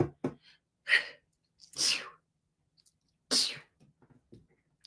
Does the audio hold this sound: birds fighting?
no